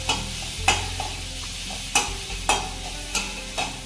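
Finely chopped chillies sautéed in a pan for fasting khichdi: a close sizzle punctuated by several sharp scrapes and clicks of a spatula stirring at irregular intervals.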